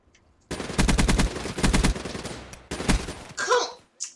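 Automatic assault rifle fire from an ICR-1 with five attachments in Black Ops 3, loud close bursts of rapid rounds, three long strings separated by short gaps, followed by a brief swishing game effect.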